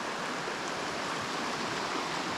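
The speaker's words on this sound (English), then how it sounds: "got the creek right here" Steady broadband rush of a clear creek flowing in the Great Smoky Mountains, constant and fairly close, with no voices or other sounds over it.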